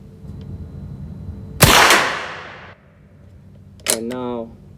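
.22 rifle firing CCI Clean 22 ammunition, one sharp loud crack with a decaying tail, followed by a second report, close by and otherwise quiet.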